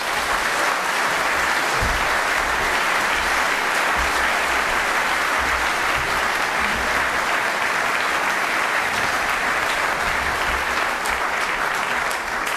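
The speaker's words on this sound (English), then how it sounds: "Please give him a warm applause." Sustained audience applause from a lecture crowd welcoming Dan Hannan to speak on Brexit, a dense, steady wash of many hands clapping at close range for the whole stretch.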